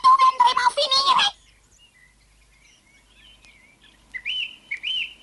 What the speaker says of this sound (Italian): all'alba cantò il primo merlo